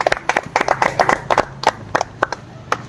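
A small group of people clapping at a surprise gift moment: quick bursts of close, sharp claps in an uneven rhythm that thin out into a few scattered claps toward the end.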